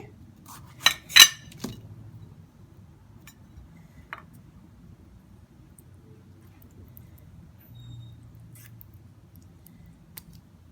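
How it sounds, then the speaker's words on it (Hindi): A spoon clinks against a bowl while mixing a tomato juice and lemon juice paste: a few bright taps close together near the start, then only faint scattered ticks over a quiet background. "इन सब चीज़ों को मिक्स करेंगे अच्छा सा और एक पेस्ट बना लेंगे।"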